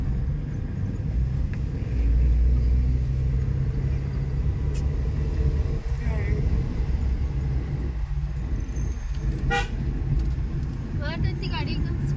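A car driving on a road, a steady interior rumble of engine and tires held throughout, with people talking at intervals over it.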